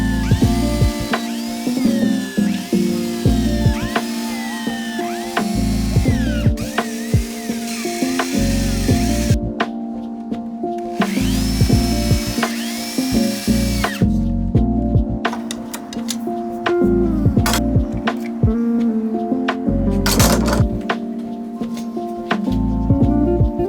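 A power drill drives screws into a pallet wood board on a work table, whining in repeated bursts that rise and stop with short pauses between, close and loud, with no talking.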